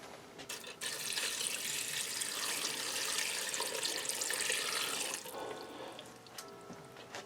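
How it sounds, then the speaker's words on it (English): Cold tap water runs steadily into a Ninja Speedi cooker pot for about four seconds, a continuous close rushing fill that starts abruptly and then cuts back to quieter trickling and drips. "Now I'm going to add some cold water in here."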